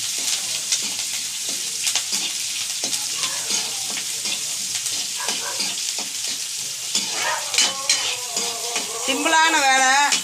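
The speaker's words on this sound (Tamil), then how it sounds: "இப்போ வெங்காயம் போட்டுக்கலாம்" Onions frying in a pan for fennel chutney, a steady close sizzle broken by repeated scraping strokes of a spoon as they are stirred, with a brief squeaky tone near the end.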